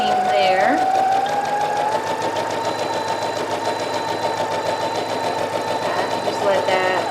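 Sewing machine stitching a puffed sleeve seam, a steady, close, fast whirring hum running continuously with slight shifts in speed.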